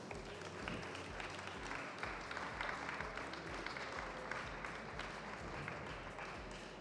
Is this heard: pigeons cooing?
no